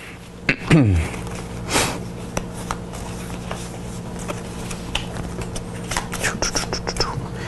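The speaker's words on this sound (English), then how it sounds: "go ahead and shuffle up the rest so that they're in a random order" Playing cards are shuffled and handled close by, with a quick riffle near the start followed by soft, scattered card rustles and taps, while quiet breathing or low voices sit in the background.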